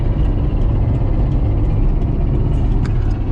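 A Mitsubishi Galant VR-4 with a broken first gear, driving after a driveshaft install: a steady, loud low engine and drivetrain drone heard from inside the car, continuous with no talking.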